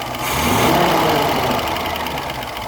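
Engine of a 1972 Range Rover running unevenly with its driver's side carburettor disconnected, a close, steady rough idle with a slight lumpy knock and no talk.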